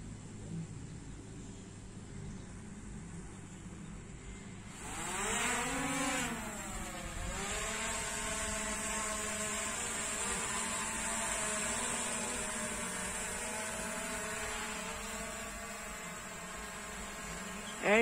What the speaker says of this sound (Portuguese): Vamos pegar este voo agora neste momento, aquecendo a turbina e vamos lá.